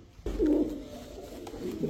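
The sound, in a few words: pigeon cooing, Royal Teddy pigeon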